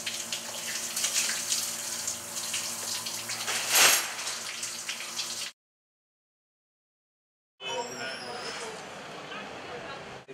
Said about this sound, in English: Nick, how do you work the hot water?